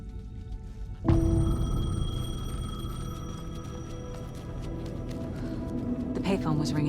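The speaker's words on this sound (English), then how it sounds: "The payphone was ringing." A payphone rings in the Alan Wake 2 video game, a sudden loud electronic tone with sustained harmonic ringing that starts about a second in and persists to the end amid low ambient game sound.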